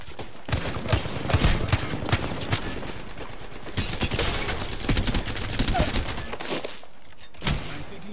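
Dense, rapid gunfire from an Apex Legends match: overlapping automatic bursts and single shots crackle loudly and almost continuously, with short lulls near the middle and end.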